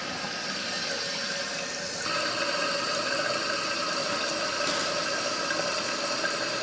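A toilet tank, newly installed on a concrete floor, fills after its water supply is opened, giving a steady hissing rush that steps up louder partway through and runs on continuously.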